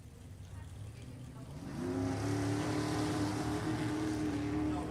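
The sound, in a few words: drag racing car engine on the track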